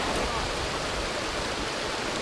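Stream water flowing through a current in Aklan, heard as a steady, close broadband rush with no pauses or breaks throughout.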